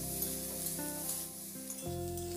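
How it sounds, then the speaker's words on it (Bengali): Eggplant pieces fry in oil with salt and turmeric, a soft continuous sizzle with faint stirring beneath a steady tonal background hum. "এবার বেগুনটাকে বেশ লাল লাল করে ভেজে নেব"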